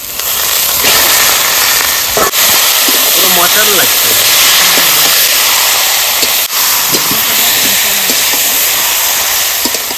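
Duck meat goes into a hot, spiced pan and sets off a loud, dense, steady hiss of sizzling that carries through the whole stretch, with a person talking over it.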